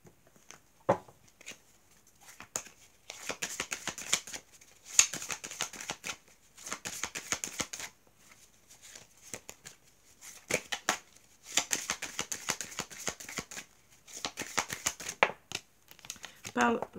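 Tarot cards crinkle and slap as they are shuffled and dealt out for a nine-card reading, in bursts of papery rustling and soft snaps separated by pauses, close and fairly quiet.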